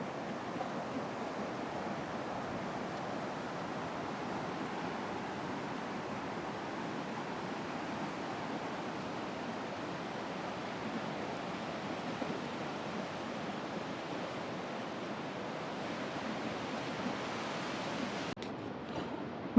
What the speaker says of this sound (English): The waves are coming to meet me.